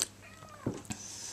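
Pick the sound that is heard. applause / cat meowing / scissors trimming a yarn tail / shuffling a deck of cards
cat meowing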